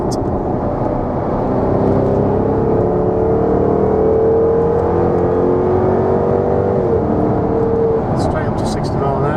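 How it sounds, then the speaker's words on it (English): A 2012 Jaguar XKR 5.0 supercharged coupe accelerates hard, its engine note climbing steadily and loudly through a long pull before easing near the end. "Just by touching the accelerator, feel those 510 horses to put you back in the seat."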